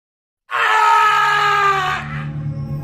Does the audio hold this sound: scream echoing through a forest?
yes